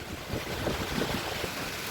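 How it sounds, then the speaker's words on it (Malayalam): Heavy rain pours steadily near a temple on a rocky hilltop, a dense, continuous broadband wash with gusty wind-like rumble, loud and close, with no voices. "ഗൈസ് നല്ല മഴയാണ് ഗൈസ്."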